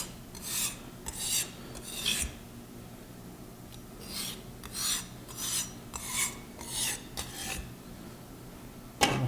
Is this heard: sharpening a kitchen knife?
yes